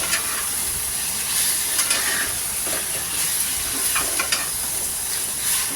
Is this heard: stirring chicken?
yes